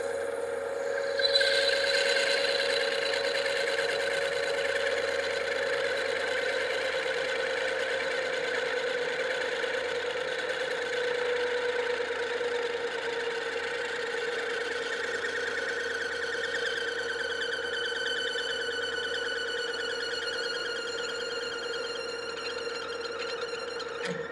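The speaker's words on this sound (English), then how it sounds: "So with this parting tool now, we're just going to kind of come in here and we'll feed in and just cut this off." A metal lathe's parting tool feeds into a bronze bolt blank, giving a steady high whine and hum with a sharper ringing edge that builds toward the end of the cut. It is moderately quiet and there is no talk.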